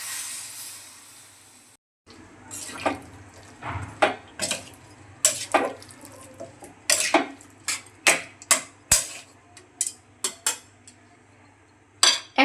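A pot of vegetable curry gets a lid after water is added, with a series of sharp metallic clinks and taps of lid and utensils against the pot, spaced irregularly over a quiet background.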